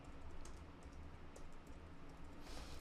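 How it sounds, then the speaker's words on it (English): Someone types a name on a computer keyboard, producing a quiet, steady run of soft keystrokes without any talking. "I'm going to type my name"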